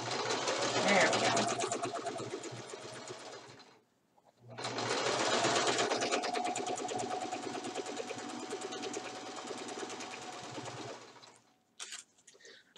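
A sewing machine stitches the hem of pajama pants in two long, loud, close bursts of fast mechanical whirring, separated by a short pause, followed by a few brief clicks near the end.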